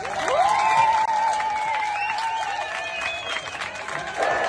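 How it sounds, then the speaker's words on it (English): Beachgoers in the Red Sea city of Eilat, Israel cheer and applaud together, a steady crowd roar with whoops and a high sustained yell above the clapping, heard from within the group. "This mobile phone footage shows beachgoers in the Israeli Red Sea city of Eilat cheering after the announcement that Nasrallah was dead"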